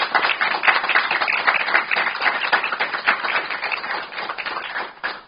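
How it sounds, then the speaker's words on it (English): A crowd applauding at a press conference announcing an accelerated nursing degree program: dense, sustained clapping from many hands, fairly loud and steady, fading slightly at the end. "That's applause."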